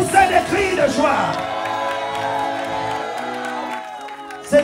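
A church congregation shouts and cheers for joy, with loud overlapping whoops and cries that swell and then hold as a sustained crowd roar.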